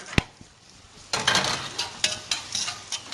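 Garlic is stirred around in a pan for a cream sauce, a sharp spoon tap on the pan followed by scraping strokes and soft sizzling in irregular bursts, close up with no voices.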